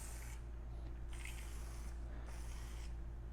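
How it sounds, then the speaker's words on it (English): Rinseless wash sprayed from a trigger bottle onto a car bumper in three short hissing mist bursts with brief pauses between them, close to the mic over a steady low background hum. "I'm actually going to go ahead and spray it"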